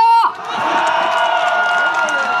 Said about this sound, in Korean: 함성 한 번만 주시겠어요?